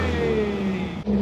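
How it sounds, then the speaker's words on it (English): Engine of a Ford Mk1 Cortina running steadily at close range, a smooth mid-pitched hum with a slight rev, briefly dipping near the end before picking back up. "So we're going for a spin in the Cortina now as well."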